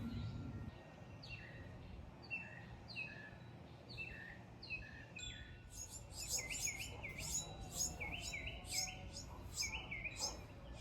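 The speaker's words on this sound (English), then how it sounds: "every time she comes in with some sort of little insect, the babies are just tweeting" Baby birds nesting inside a light fixture chirp and tweet in quick repeated bursts, fairly close, becoming busier and denser in the second half over a low background rumble.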